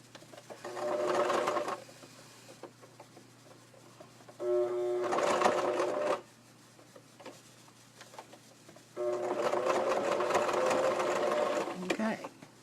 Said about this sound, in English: I turn my stitch down a little bit smaller in a zigzag stitch.